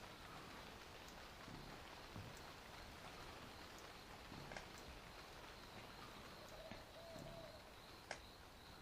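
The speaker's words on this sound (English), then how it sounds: "It's raining." Steady rain falls throughout in the video game Viva Pinata Pocket Paradise, a continuous soft hiss with occasional faint drop ticks and a brief chime near the end.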